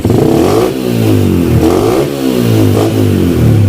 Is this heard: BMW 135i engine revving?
yes